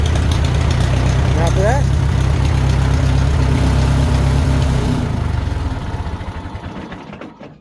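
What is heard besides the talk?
Farmall 450 gas-start diesel tractor engine idling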